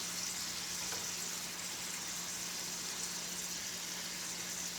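Shrimp and garlic cook in a pan over medium heat, giving a soft, even sizzle that holds steady and low in level, with no talking.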